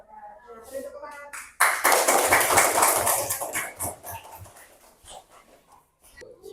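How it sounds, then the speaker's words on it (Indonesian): Applause from a classroom group after a student presentation, starting abruptly after some brief talk, loud and close for about two seconds, then thinning into scattered claps before fading out. "Beri tepuk tangan."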